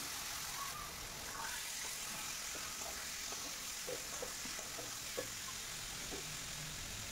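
Chicken liver pieces frying in a pan with spices, a steady low sizzle with faint stirring scrapes, quiet and continuous.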